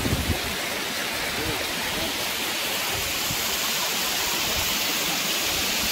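A waterfall rushes with dense, steady hissing white water, loud and constant throughout with no pauses.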